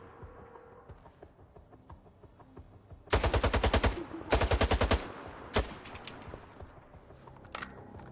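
AK rifle fire in the shooter STALKER 2: two loud sustained automatic bursts of roughly a second each, then a single sharp shot and a later fainter crack, over quiet ambient background.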